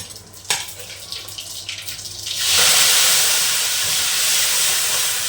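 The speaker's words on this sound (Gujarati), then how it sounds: "આપણે હવે આ ઓળો વઘારી લઈએ" Oḷo, a Gujarati aubergine dish, hits hot oil for tempering: a sharp click and some clatter, then a sudden loud, steady hissing sizzle that persists to the end.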